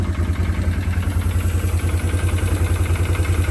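A quad ATV engine idling on two cylinders, a close, loud, steady low throbbing pulse with an even rapid rhythm and no voices over it.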